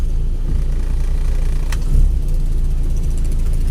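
Light to moderate afternoon street traffic in Iligan City, a steady low rumble of car engines passing nearby, with one slightly louder swell midway and no talking.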